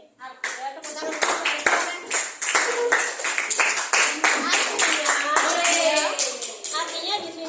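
Classroom hand clapping, a lively burst of many claps from pupils that runs steadily throughout, mixed with children's voices and chatter.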